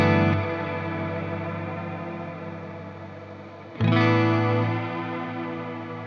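A slowly wavering, slightly out-of-tune chorus tail from a guitar pedal rig with heavy sway, sustained distorted notes fading, then a fresh loud chord struck near the end that rings and warbles on its own.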